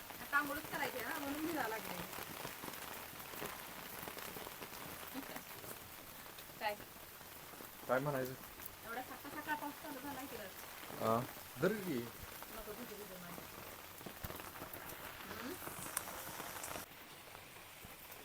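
Steady rain patters on a surface throughout while people talk over it, the downpour continuing evenly from start to finish.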